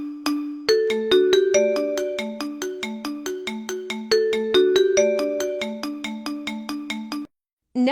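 A Huawei phone ringtone plays a bright, clear melody of evenly spaced plucked tones, loud and close, running several seconds before stopping abruptly.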